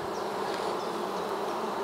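Close, continuous humming of a mass of honey bees at a top bar hive, steady and even throughout with no voices.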